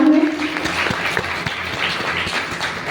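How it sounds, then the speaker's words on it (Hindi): An audience at an RCM Business motivational talk in Kota, Rajasthan claps steadily, a dense wash of applause from a crowd, with faint background voice at the start. "एक बार मैं जोरदार तालियां चाहूंगी उनके सम्मान में"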